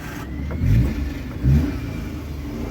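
A 2013 Maruti Suzuki Alto LXI petrol car engine starts up and idles close by, with two short rev bursts rising over a steady low engine hum.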